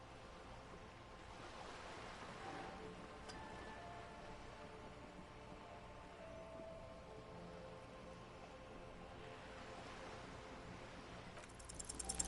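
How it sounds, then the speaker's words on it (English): Waves gently rocking a sloop in the game Disco Elysium, a soft continuous wash of water and faint wind, steady and quiet throughout with no voices. "The waves sway the sloop slowly."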